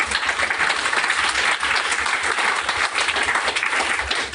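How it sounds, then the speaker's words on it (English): Steady applause from a crowd, dense clapping sustained evenly throughout at a fairly loud level, with no voices standing out. "can I get a round of applause for Alicia, please?"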